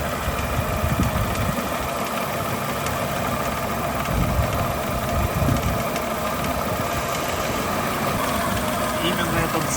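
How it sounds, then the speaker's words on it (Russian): Idling Chevrolet Aveo engine with a metallic ringing from the drive belt tensioner pulley, which appears when the air conditioning is on; a steady mechanical hum and clatter runs throughout, with someone talking over it. "Явно металлический такой звон."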